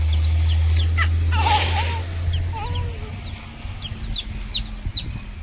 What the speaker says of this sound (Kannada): ಕೋಳಿ ಮರಿ ಬರ್ತದ